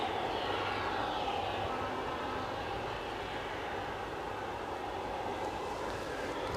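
Jet airliner taxiing at Edinburgh airport, a steady broadband engine roar with a faint whine, continuous and moderately distant, with no talk over it.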